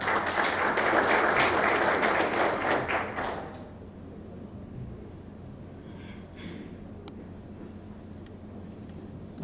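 A room applauds a panelist joining a panel on school connectivity, a burst of clapping for about three seconds that stops abruptly, leaving quiet room sound with faint scattered noises.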